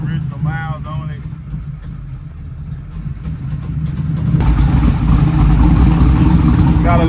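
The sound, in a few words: 1979 Chevrolet Malibu engine idling after motor swap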